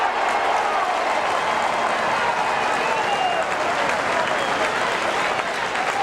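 A stadium crowd at a 1986 Australian football match between St Kilda and Hawthorn roars as St Kilda kicks its first goal, a loud, continuous wall of cheering and clapping that stays dense throughout.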